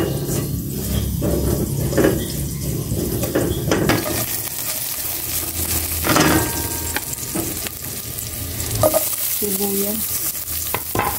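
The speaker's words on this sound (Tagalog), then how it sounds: "Gisa ko na pong bawang." Garlic sautéing in a very hot pan, a loud continuous sizzle close by, with a utensil scraping and stirring against the metal in bursts throughout.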